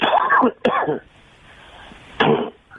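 Two or three sharp, close coughs with short quiet gaps between them, loud and raspy.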